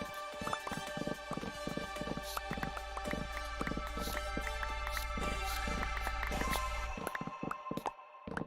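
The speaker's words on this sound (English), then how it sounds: "Yeah, it definitely sounds like a galloping horse." Galloping horse hooves in a video game pound out a quick, steady clip-clop rhythm, close and clear, running nearly the whole way before breaking off near the end.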